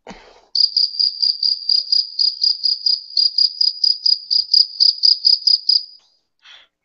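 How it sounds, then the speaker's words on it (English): Cricket chirping sound effect, a clean, close series of about twenty rapid, evenly spaced high trills that runs alone for several seconds before stopping. "My cricket."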